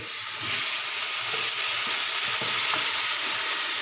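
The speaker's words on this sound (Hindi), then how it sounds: "अच्छे से मसाले की बुनाई कर लेंगे।" Turmeric, red chili, salt and chopped tomato fry in a pan: a steady, close, loud sizzling hiss that runs unbroken throughout, with faint stirring clicks beneath and no voices.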